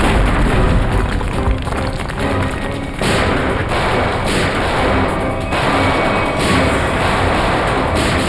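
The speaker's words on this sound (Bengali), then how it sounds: "ব্লাস্ট আরম্ভ হয়ে গেছে" Explosion blasts go off in quick succession, a series of loud, dense booms and crackling bursts filling the whole clip with no talking.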